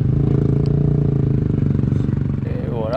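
A rally motorcycle at the 2024 Dakar sets off in the dunes, its engine a loud, close, pulsing thrum that climbs in pitch near the end.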